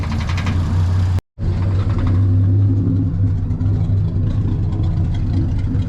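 The engine of a Triumph TR250 runs loudly and close with a rough, rumbling tone. It cuts out briefly about one second in, then picks up again with a little revving.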